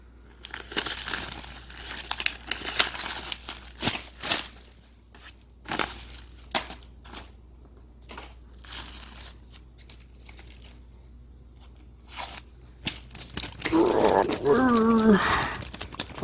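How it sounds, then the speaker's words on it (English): Masking tape and paper being peeled off a freshly painted 5.8 engine, with crinkling, tearing and rustling bursts that come in stretches between quieter pauses; a voice speaks briefly near the end. "time to peel this off."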